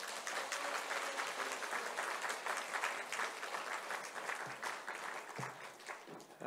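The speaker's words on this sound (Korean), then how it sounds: "우리 목사님 나오실 때 박수로 환영하겠습니다." A church congregation at a Sunday worship service applauds to welcome the senior pastor, with dense, sustained clapping from a large crowd throughout, fading slightly toward the end.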